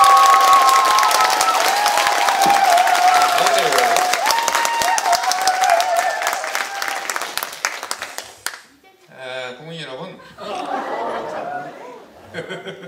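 Loud applause and cheering from a crowd at a live public broadcast event as a party leader is welcomed, heavy clapping that fades after about eight seconds into someone speaking over scattered crowd noise.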